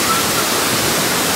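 Curug Cipamingkis waterfall near Bogor roars in a steady, loud broadband rush of falling water, close and constant with no voices over it.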